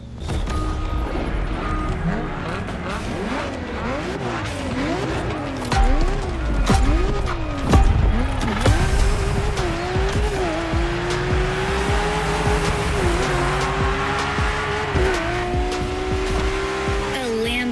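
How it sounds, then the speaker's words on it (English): Lamborghini Aventador in the racing game The Crew Motorfest, its engine revving and wavering as tires squeal and skid through a drift, with loud, continuous screeching layered over the rising and falling engine note. "have you ever seen a Lamborghini skid? Well, you're about to."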